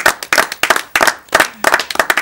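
A small studio group on a local TV culture program claps in uneven bursts after a portrait is shown, with sharp, close individual hand claps in an irregular rhythm.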